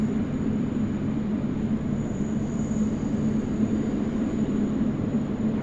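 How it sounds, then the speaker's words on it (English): A Boeing 777-300 jet at Sydney Airport gives off a steady, loud, broadband engine roar with a sustained whine, continuous and unbroken from near range. "United 830 off to San Francisco, 777-300 here at Alpha as well, joining us."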